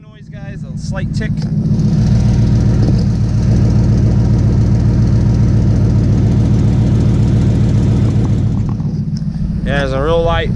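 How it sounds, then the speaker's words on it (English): A 2012 Mustang Boss 302 engine idles steadily, with a faint, rapid ticking from an exhaust leak woven into the low rumble, with brief voices at the start and end. "Hear that ticking noise, guys? A slight tick."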